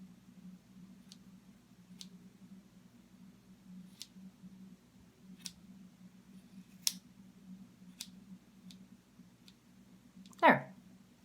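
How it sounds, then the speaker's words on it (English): Sharp, quiet scissor snips cutting hair ends straight, close by, spaced irregularly over a soft low hum, with a louder burst of rustling near the end. "you're gonna take your scissors and you're gonna cut those ends as straight as you"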